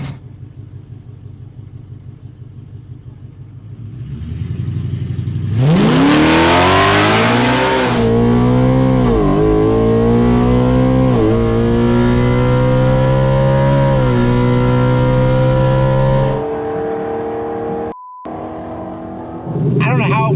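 A drag race car at a Ford drag racing event roars up hard with a burst of noise, climbing in pitch through several gear shifts to about 8,000 RPM, loud and close, then dropping to a rumbling idle.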